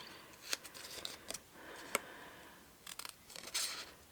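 Quiet, close scissor snips cutting card or paper come in scattered bursts, a few crisp cuts with pauses in between.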